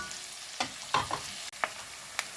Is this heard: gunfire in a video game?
no